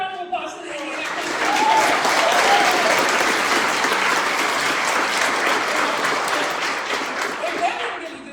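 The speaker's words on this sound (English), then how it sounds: "let's give another round of applause to the Indianapolis." Sustained audience applause at an awards ceremony, a dense, even wash of many hands clapping that swells quickly, holds steady for several seconds and then tapers, with a few faint voices underneath.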